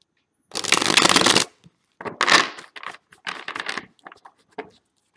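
Tarot cards are shuffled in short crisp bursts, one long riffle followed by several quicker, choppier flicks and taps, close and clear with silence between them.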